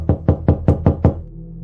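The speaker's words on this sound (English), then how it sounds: "suddenly, I heard a knock coming from my front door." Six sharp, evenly spaced knocks on a front door at night, loud and close, with nothing else heard.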